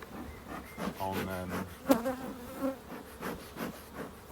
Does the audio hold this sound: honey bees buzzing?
yes